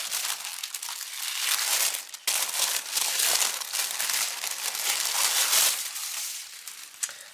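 Tissue paper from a mail parcel crinkles and rustles continuously at close range, with brief pauses between handling bursts and no talking.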